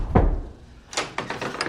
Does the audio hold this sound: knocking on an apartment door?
yes